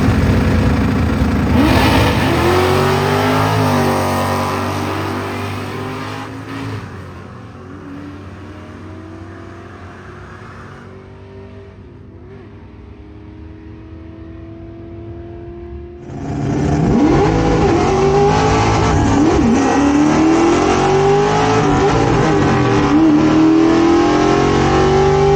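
A 1968 Ford Torino drag car launches off a two-step, its engine revving hard and loud, easing off mid-run, then surging back to a sustained roaring pull at the end.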